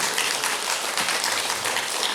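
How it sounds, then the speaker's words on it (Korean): An audience at an academic conference on Buddhist ritual culture gives a short burst of loud, close applause, a thick wash of clapping that holds steady for about two seconds. "큰 박수 부탁드리겠습니다."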